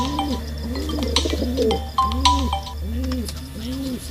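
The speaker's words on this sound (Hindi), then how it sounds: "कबूतरी आज अकेला उड़ारी मार रहा है" Several pigeons coo in repeated rounded calls while being fed, with a steady low hum and faint chirps behind them.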